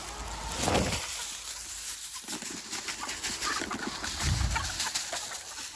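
Chickens cluck softly and intermittently over a continuous background hiss, with a couple of louder rustles or flutters.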